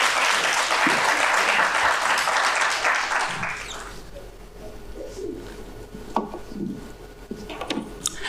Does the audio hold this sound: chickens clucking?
no